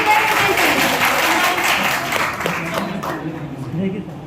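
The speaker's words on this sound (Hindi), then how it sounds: "इनके लिए जोरदार तालियां दें।" Applause from an audience at a student award ceremony during an annual culture fest, a dense, steady clapping wash that holds loud throughout and tapers slightly near the end, with a few voices mixed in.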